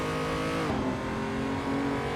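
A BMW M235i engine in the Assetto Corsa racing game, held loud and steady at high revs, a dense, continuous over-revving drone with no break.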